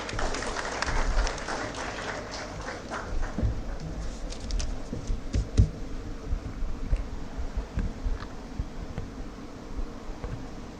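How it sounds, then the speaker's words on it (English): Audience at a business school orientation day applauds to welcome a speaker, a long, steady wash of clapping from a large hall that holds at an even level throughout. "Please join us in welcoming him with a huge round of applause."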